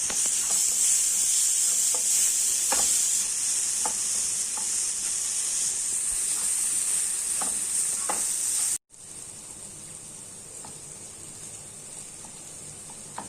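Afghani omelette masala with chaat masala being mixed in a pan on the stove: a steady close sizzle and hiss with occasional scraping stir strokes, dropping abruptly and quieter partway through, no talk.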